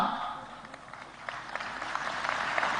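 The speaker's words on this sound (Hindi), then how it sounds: "इस पे भी जोर से ताली है" An audience at the Global Investors Summit in Indore, Madhya Pradesh applauds a speech with a steady, moderately distant clapping that holds throughout.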